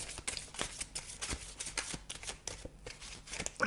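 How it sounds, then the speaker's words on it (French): Cards shuffled quickly for a reading, a close, steady run of riffling, flicking card sounds with quick papery slaps, no voices. "je vais vous tirer une dernière carte"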